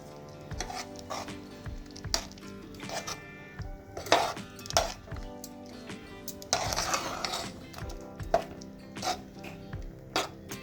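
A spoon scrapes and clinks against a pan while fish masala with ground paste is stirred, irregular metallic knocks and scrapes over a soft sizzle, close and fairly quiet.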